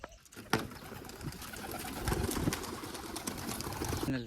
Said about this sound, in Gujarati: કબૂતર તો ઉડાડી મૂક્યા છે એટલા ઉડે છે